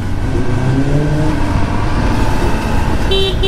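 A Kawasaki ZX-10R sportbike with a quickshifter, ridden alongside Z900s, revs hard nearby with a loud, sustained engine roar. Shifting tonal whines run through it, and brief higher tones appear near the end.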